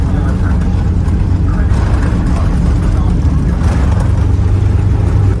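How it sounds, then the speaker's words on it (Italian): Steady, loud broadband engine drone inside an airplane cabin on a flight to Dubai, a constant roar filling the space without breaks, with a voice faintly present under it. "può dire al pilota di spegnere il motore dell'aereo? Il rumore mi sta dando fastidio"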